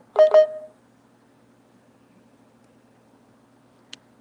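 Two quick telephone dialing tones sound close up at the very start, then the line goes nearly silent apart from a faint hum and one tiny click near the end.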